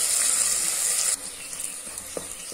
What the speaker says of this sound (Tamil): நம்ம இடிச்சு வச்சு வெங்காயத்தை சேர்த்துக்கலாம். அதையும் நல்லா வதக்கிக்கலாம்.